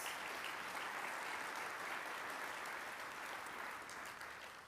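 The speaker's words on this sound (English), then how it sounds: "Yes, a round of applause." Audience applause at a city State of the City address, a dense, even wash of clapping heard at some distance that holds steady and then slowly fades.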